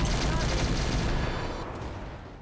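Long Tom cannon fire in a video game battle against a Marauder, a loud burst of rapid gunfire that rolls out and fades over a couple of seconds.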